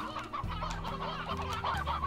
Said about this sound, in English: There's too frickin' many chickens.